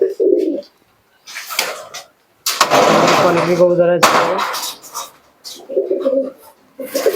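Bihar Giriraj pigeons coo in short throaty bursts at the start and near the end. A loud, rough, engine-like rumble fills the middle, and voices talk nearby.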